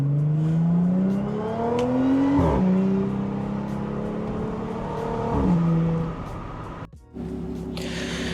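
A 400 hp Audi S4 accelerates hard on a scenic route, its engine note climbing through two long revving pulls with gear changes between them, loud and close, ending in a brief dip and a steady idle-like drone.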